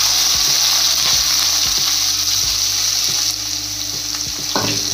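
Onions frying in hot oil in a pan as part of an okra-potato dish, with a loud, continuous close sizzle and repeated stirring scrapes.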